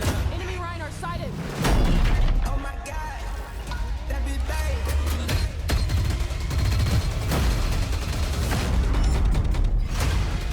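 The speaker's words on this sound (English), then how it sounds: "A lot of explosions." Explosions and gunfire from a Black Ops 7 multiplayer trailer: sharp bursts of shots, heavy booms and mechanical clanks come in rapid irregular bunches, loud and busy across the whole stretch.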